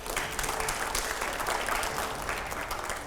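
A studio audience at a televised Hindi political discussion breaks into sustained applause, a steady wash of clapping from many hands at moderate level lasting the whole stretch.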